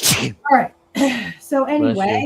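A single sharp sneeze bursts out at the very start, then a person talks for the rest of the moment.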